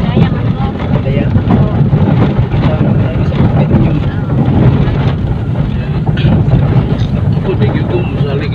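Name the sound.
motorboat engine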